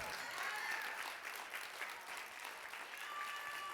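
A church congregation breaks into sustained applause during a sermon, a dense wash of many hands clapping steadily throughout, with no clear voices rising above it.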